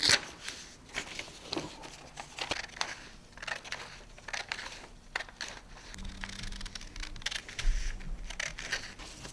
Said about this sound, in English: here are the scissors, and you can tear off that page